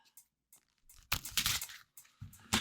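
Plastic card sleeves catch and scrape against each other during a close-miked shuffle, giving a few short crunchy bursts with brief pauses between them.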